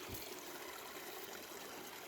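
Water draining out of a beaver pond through thick brush, a steady close trickling and rushing flow that holds even and unbroken throughout, with no voices.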